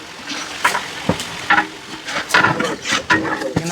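Onions fry in oil with curry leaves, cardamom, cinnamon, cloves and green chilies for biryani at a traditional meat feast in Thondi, Ramanathapuram district. A close, sputtering sizzle is broken by repeated scraping stirs.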